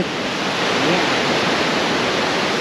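Steady, broadband wash of sea waves, a continuous close rushing hiss of surf with no distinct breaks or voices.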